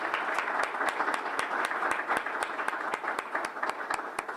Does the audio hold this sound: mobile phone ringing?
no